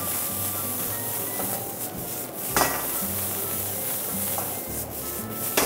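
Pickled mustard greens and pickled ginger beans stir-fried in a pot, a steady scraping sizzle with repeated knocks and rubs of the spatula against the metal at a quiet, close level.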